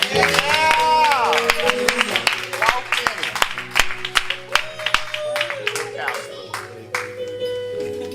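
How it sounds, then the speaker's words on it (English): Congregation clapping hands during a lively church service, dense rhythmic claps from a crowd under a preacher's loud voice and organ or music chords. "Clap your hands for Pastor Lady Young."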